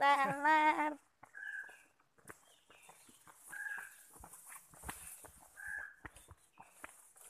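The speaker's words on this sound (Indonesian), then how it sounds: "Itu terdengar suara burung, tapi tidak nampak apa burungnya." A few short, clucking bird calls repeat at intervals in forest scrub on Bukit Kaba, with light rustling and footsteps nearby; a brief voice-like sound opens the scene.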